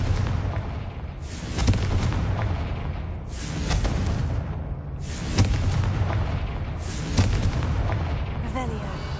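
Confringo fire spells explode in Hogwarts Legacy on PS5, four heavy booming blasts roughly two seconds apart, each with a sharp onset and a rumbling tail, loud and close.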